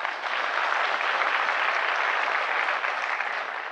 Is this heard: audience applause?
yes